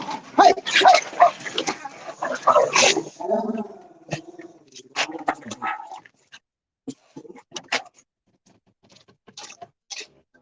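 Two dogs, a father and his son, barking, yelping and scuffling in a brief loud fight that settles into scattered whimpers and snuffles, with a person's voice breaking in around the commotion.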